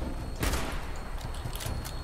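Gunfire from a weapon in the video game Fallout 76, a loud burst of shots near the half-second mark followed by scattered fainter reports over a steady background din.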